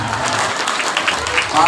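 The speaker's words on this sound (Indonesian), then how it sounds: "Kalau tepuk tangan mesti semua dong" Audience at an Isra Mi'raj religious lecture applauding, a dense, steady patter of many hands clapping at once, fairly loud and continuous with a voice partly mixed in.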